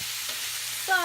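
Onions sauteing in a pan in a home kitchen, a steady soft sizzle throughout, with a brief stirring or scraping sound near the end.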